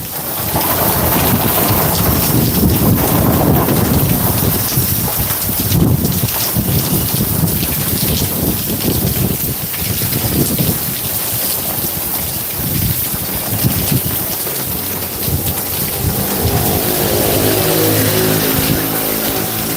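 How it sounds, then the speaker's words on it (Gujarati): Heavy rain pours outdoors with gusting wind buffeting the microphone, a loud continuous roar with distant thunder rumbling, and no speech. "માથે વરસાદ હોય"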